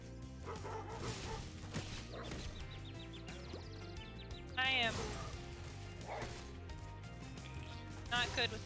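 Dogs in the video game Spyro Reignited Trilogy bark and yip in short bursts amid game music and effects, while a player talks over much of the action.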